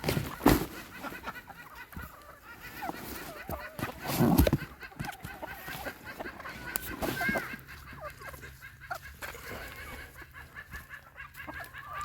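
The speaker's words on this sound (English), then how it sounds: "here are Icelandic chickens" Icelandic chickens in their main flock on a homestead cluck and squawk in scattered bursts, with one louder outburst midway and quieter pecking chatter between, close by and outdoors, with a person talking briefly.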